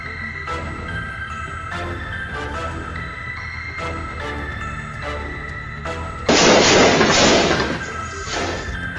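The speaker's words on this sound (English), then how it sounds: "Gunfire erupted in rapid bursts." Rapid bursts of gunfire at a gas station convenience store: repeated sharp cracks at a steady pace, then one loud crashing burst of noise, with no talking.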